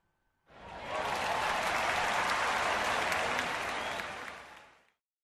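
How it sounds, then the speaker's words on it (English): Stadium crowd noise from the Action PC Baseball 2017 video game, a dense roar of cheering and clapping that swells in, holds steady for several seconds, then fades out. "That's some crowd noise."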